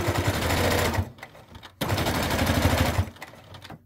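A sewing machine back stitches a circle travel pouch, its needle rattling in rapid bursts up close, stopping briefly, then starting again with a loud chattering run.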